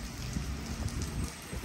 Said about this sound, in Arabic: والدنيا مطر وحالوب